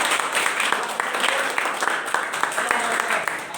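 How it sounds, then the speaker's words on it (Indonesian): Students and teachers at an Indonesian school gathering clap as a group, a continuous crowd of hand claps with voices mixed in beneath it. "Tepuk tangan dulu."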